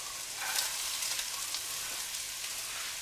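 Onions fry in ground meat juices in a pan for nachos, a soft, even sizzle with light crackle close by, steady and unbroken for a few seconds, with no voices.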